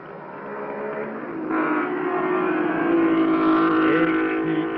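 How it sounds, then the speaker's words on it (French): A low-slung 1500 cc Cooper Climax racing car in a Glover Trophy race passes close by, its engine note rising to a loud sustained roar before easing slightly as it moves on. "Brabham, le voici qui passe. Vous remarquerez la forme assez particulière de sa Cooper Climax."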